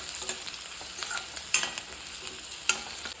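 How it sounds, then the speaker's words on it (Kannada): Jackfruit palya (gujje sukka) frying with curry leaves in a pan, with a soft continuous sizzle and several scraping stirs, a couple of them sharper and louder, and no voices. "ಇದೀಗ ಚೆಂದ ಕೆಂಪಗೆ ಫ್ರೈ ಆಗಬೇಕು."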